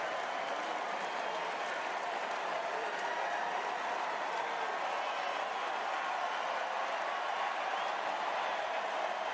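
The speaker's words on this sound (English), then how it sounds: "This crowd showing their appreciation" Football stadium crowd applauding at a Kansas State at Oklahoma State college game, a dense, sustained wash of clapping and cheering from a large audience that holds steady throughout.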